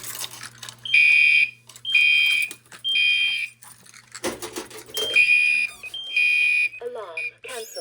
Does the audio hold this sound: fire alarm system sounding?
yes